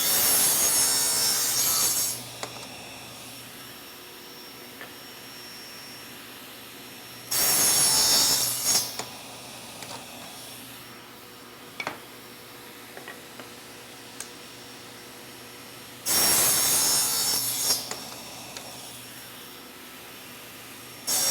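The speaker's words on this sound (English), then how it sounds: "I'm going to come back and I'm going to cut all the other ends off" Table saw cutting the ends off wood pieces guided by a miter gauge: three loud bursts of blade whine and rasp, each a couple of seconds long, separated by quieter stretches with small knocks and handling clicks.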